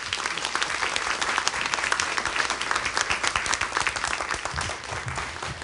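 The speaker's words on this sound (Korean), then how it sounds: "큰 박수로 환영해 주시기 바랍니다." Audience at a Korean creative-convergence lecture concert applauds to welcome a robotics researcher, dense sustained clapping from a large crowd lasting several seconds, with no speech over it.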